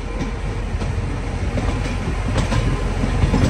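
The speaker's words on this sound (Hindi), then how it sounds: "अभी दिखाते आपको पूरे इंडिया का सबसे पावरफुल लोकोमोटिव वैग 12" An Indian Railways WAG-12 electric locomotive, rated at 12,000 HP, rumbles past with a steady, loud roar and rhythmic clickety-clack of wheels over rail joints, sustained and close throughout with no talk.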